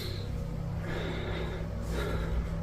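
Loud heavy breathing from a man in a played-back video, with sharp gasping inhales and snorting exhales at a moderate level over a low steady background hum.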